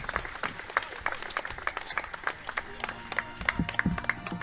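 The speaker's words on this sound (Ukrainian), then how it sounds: "Оплески" Crowd applause at a boxing event, a 66.7 kg bout between Mykhailo Skrypka and Vladyslav Pylypenko, as a moderate, sustained patter of clapping from a hall audience, with a few louder nearby claps and low crowd murmur.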